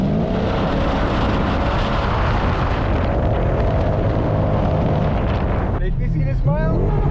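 A V8 Audi S4 with a manual gearbox swap roars loudly from inside the cabin with heavy road and wind rumble, and a voice speaks briefly near the end.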